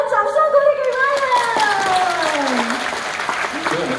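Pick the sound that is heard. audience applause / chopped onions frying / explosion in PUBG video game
audience applause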